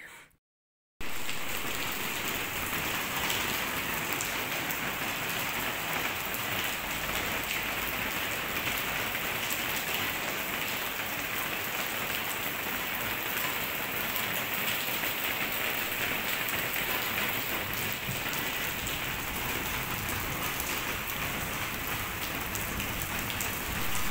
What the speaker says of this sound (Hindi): मैं आपको बारिश की आवाज़ सुनाऊँगी